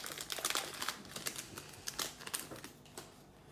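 Trading card pack wrapper being ripped open from the back, close and quiet crinkling with quick tearing bursts of foil plastic over a few seconds.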